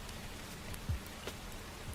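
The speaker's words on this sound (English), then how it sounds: "So I do have a rain playing because it's cozy." A cozy rain sound effect looping in the background as a faint, steady patter with an occasional soft drop, no voices.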